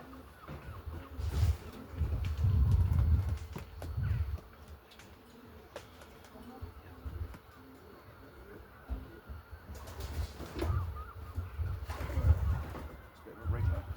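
A racing pigeon being handled gives low, soft cooing, close and fairly faint, amid handling noises and people talking in a loft.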